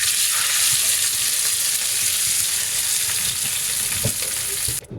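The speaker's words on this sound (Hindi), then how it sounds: "इसको तड़का हम साग पर लगा देंगे" Ghee tadka with onions and chilies hits saag and sizzles loudly and steadily, a close, bright frying hiss that holds throughout and cuts off abruptly at the end.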